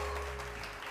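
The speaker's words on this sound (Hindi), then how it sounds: "बहुत सारी तालियां" Steady applause from an audience, a continuous wash of clapping that fills the short moment without letting up.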